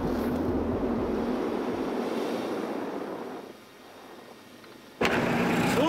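Expedition vehicles in Antarctica labour on the engines, struggling to get above second gear, a broad steady roar that sags and thins midway, then surges back loud near the end.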